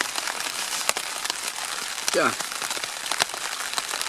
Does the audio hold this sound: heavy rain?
yes